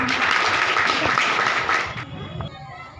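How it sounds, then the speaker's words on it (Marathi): Audience applause at a public felicitation gathering, a dense burst of many hands clapping for about two seconds before quickly fading away. "एकदा यांच्यासाठी टाळ्या वाजवा"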